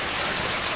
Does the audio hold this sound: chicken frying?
no